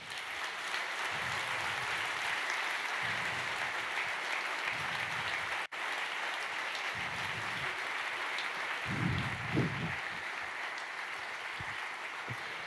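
An audience at a media convention in Berlin applauds steadily to welcome the punk performance group on stage, a continuous even wash of clapping with a few low thumps and murmurs beneath.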